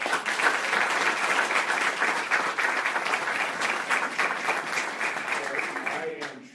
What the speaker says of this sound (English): So could we please give them another round of applause?